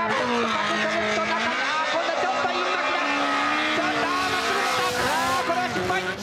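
A drift car, a Toyota 86, at a D1GP round at Fuji in 2009, engine note shifting as it slows into a corner with tire noise, loud and continuous, with a commentator talking over it.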